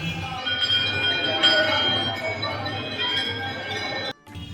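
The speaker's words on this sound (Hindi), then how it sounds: "यहाँ टंगी घंटियाँ बच्चे बजा बजा कर आनंद लेते हैं।" Small temple bells hanging at the Baba Mahendranath shrine in Siwan, Bihar, rung by children, give bright overlapping metallic rings over a steady crowd murmur, with a sharp strike near the middle and a sudden drop before the end.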